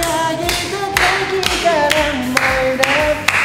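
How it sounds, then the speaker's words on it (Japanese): Audience hands clap in a steady rhythm along with a love song, sharp regular claps sounding loud and close over the music. "皆さん手拍子。"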